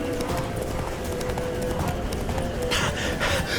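Roach, a horse in a video game, runs with a steady, rapid clip-clop of hooves close by, the rhythm holding over a dense bed of game sound throughout.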